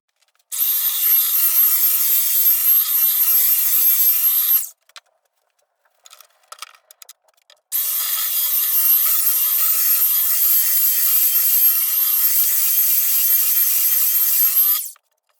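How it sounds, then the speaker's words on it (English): Steady, loud abrasive whirring of a belt sander on oak boards, running about four seconds, pausing briefly with light knocks, then running again for seven seconds. "So now I'm taking the same belt sander and just going across the top."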